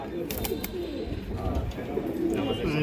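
Pigeons of an old breed line, including a green-necked pair, coo softly at a loft, with low murmuring calls repeating under a steady background hum.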